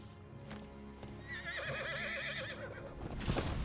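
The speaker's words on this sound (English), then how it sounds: "I love the horse so much." A horse in Final Fantasy XVI gives a loud, wavering whinny over steady clip-clopping hooves, followed by a louder burst of hoof and movement noise at the end.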